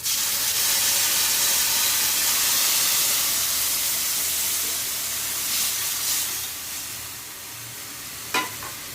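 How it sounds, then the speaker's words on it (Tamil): Tamarind water hits a hot pan with a loud, steady steaming sizzle that gradually softens, ending with a brief metallic clink; no voices. "இந்த கரைச்சி வச்ச புளி தண்ணி ஊற்றிக்கலாம்."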